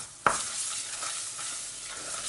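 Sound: flour and tomato paste being toasted and stirred in a pan

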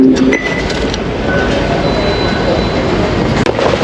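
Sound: train arriving at station

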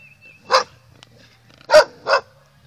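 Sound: dog barking

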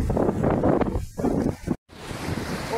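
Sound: Turquesa river flowing

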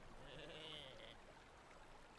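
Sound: sheep bleating in video game Lumberhill

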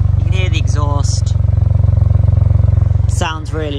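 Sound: Ford Puma ST 1.5T EcoBoost exhaust note

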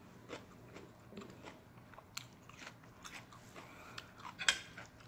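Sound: eating spicy crab papaya salad, crunching

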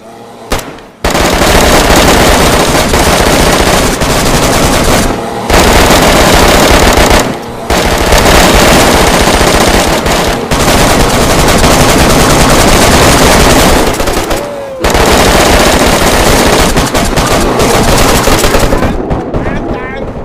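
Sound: gunfire in the video game DayZ

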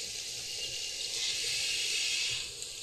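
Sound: running water from a tap in Call of Cthulhu video game

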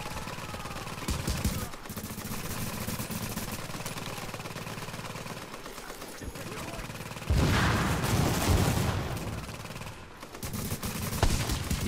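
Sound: gunfire in the video game The Division

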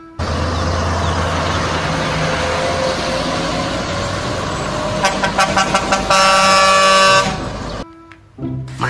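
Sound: toy container truck horn honking

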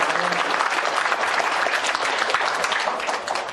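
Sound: audience applause to thank the hosts

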